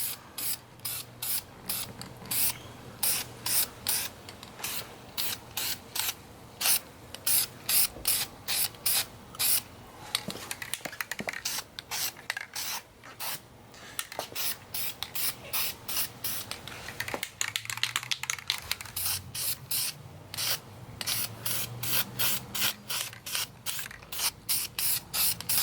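Aerosol wrinkle paint sprayed onto an engine valve cover in a light base coat, heard as a long series of short, close hissing bursts in steady rhythm with brief pauses between them and no talking.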